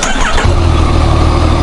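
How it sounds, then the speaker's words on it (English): Yamaha MT-09 motorcycle with its stock exhaust starting up, a brief crank and catch followed by a loud, close, rumbling idle that settles into an even throb. "quickly start the bike, because it's mandatory to show you what the stock exhaust sounds like before we install the Akrapovič"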